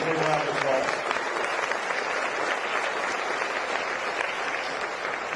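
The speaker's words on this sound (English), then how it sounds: "we deserve a big round of applause" Audience applause at the 2014 Farm Bill signing by the President, a steady dense wash of clapping from a large crowd lasting throughout, with faint voices underneath early on.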